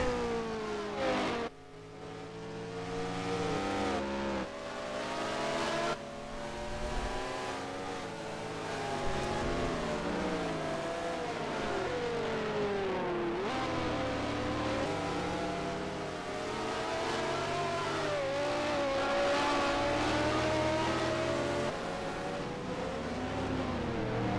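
Racing cars screaming around the Monaco street circuit in the Grand Prix Legends sim, 1967-era cars including slow BRMs, engines revving and shifting continuously with pitch sweeps through corners, loud and close, no talk.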